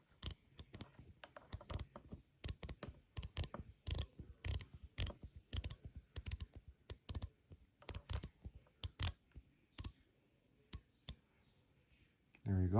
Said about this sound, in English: Let's hear the bezel clicking.